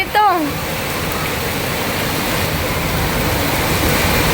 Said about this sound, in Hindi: बाहर आ गई बारिश कितनी जोर की